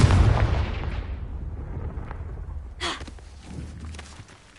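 A Confringo blasting spell from Hogwarts Legacy erupts in a loud, close explosion with a deep rumbling boom that slowly fades, followed by a sharper burst partway through and lingering debris noise, with no talking.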